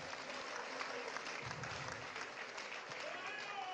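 A round of applause at a press address by a politician, a faint, steady patter of clapping throughout with a voice mixed in.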